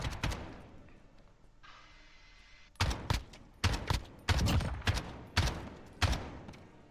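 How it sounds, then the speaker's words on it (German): Gunfire in a Call of Duty firefight tournament match: about six loud, sharp shots in an irregular sequence after a quieter stretch with a brief hiss, each shot ringing out briefly. "Wie sich meine Schüsse anhören haben."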